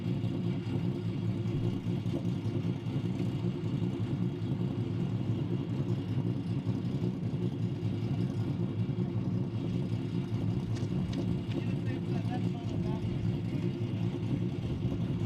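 A Fox body race car with a Voodoo-based motor and Motec engine management accelerates through the gears, a steady, droning engine rumble that stays fairly distant and muffled, with faint talk over it.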